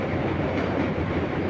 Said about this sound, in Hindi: तो इस ओबरा डैम के ऊपर से गाड़ी क्रॉस करते हुए